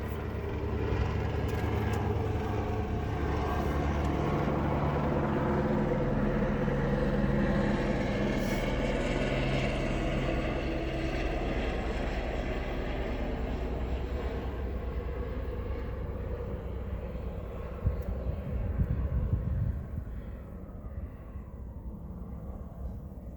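A loud, sustained engine roar and rumble of a helicopter overhead, steady for most of the time before slowly fading, with no talking.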